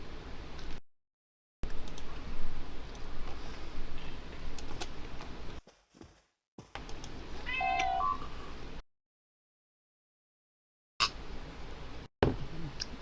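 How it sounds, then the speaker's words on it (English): Pet cat meowing for attention indoors, a few short, faint meows heard near the end among quiet room noise and gaps of silence. "another one of my cats begging for attention"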